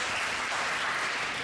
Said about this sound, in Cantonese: 我哋俾啲掌聲佢哋好唔好啊？